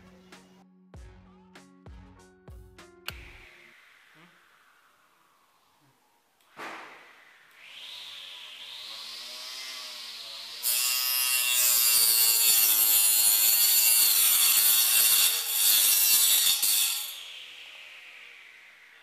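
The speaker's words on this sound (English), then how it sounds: "The motor was struggling to cut the wooden sheet, but I'm able to cut this plastic pipe." Homemade circular saw driven by a 775 DC motor: clicks and rattles, then the motor spins up with a rising whine and bites loudly into plastic pipe, a sustained harsh screech before it winds down, with no talking.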